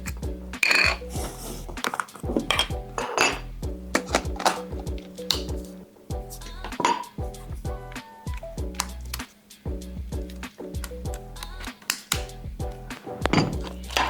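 Camera gimbal mounting plates being handled for a DJI Weebill 3E setup, giving a string of close, sharp thunks and light metallic clinks at irregular intervals throughout.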